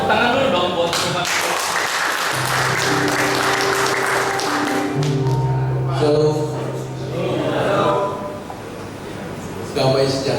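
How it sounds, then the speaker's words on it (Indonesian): Audience applause at a Christmas and New Year gathering, continuous clapping from a crowd under music and a speaker's amplified voice, sustained throughout at moderate loudness. "Tepuk tangan dulu dong buat"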